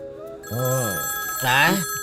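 A telephone rings with a steady electronic tone in a Hindi romantic film scene, and voices talk over the ringing.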